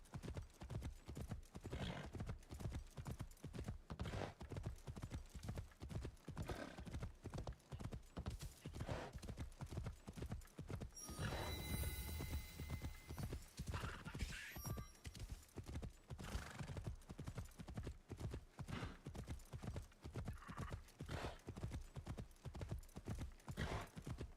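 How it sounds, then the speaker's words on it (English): Hooves clip-clop in a steady galloping rhythm as a horse is ridden at length in Assassin's Creed Shadows, with a neigh partway through and game ambience underneath, no talk. "Whole lot of just riding the horse around."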